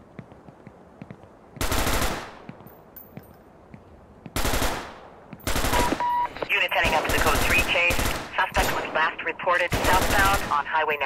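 Gunfire in the video game Vicewave 1984, heard as several long, loud bursts of rapid automatic fire separated by short quieter gaps, dense and close, with game sounds around it.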